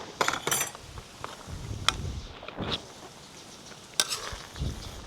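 A spoon stirs ginataang kalabasa't sitaw with alagaw, squash and string beans in coconut milk, in a pan, giving faint soft scrapes and gentle sizzling with a few clinks.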